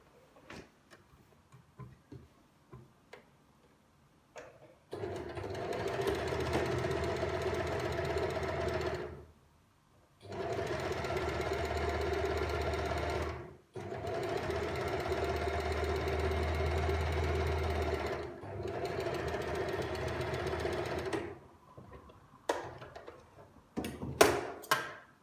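A sewing machine stitching the front and back of a garment with its darts runs in four long steady whirring stretches, separated by short pauses. A few faint clicks come before and after, and no one speaks.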